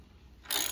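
A wrench ratchets a nut tight on a Sur-Ron electric pedal kit crank, giving a single short, crisp clicking burst after a quiet moment, close by.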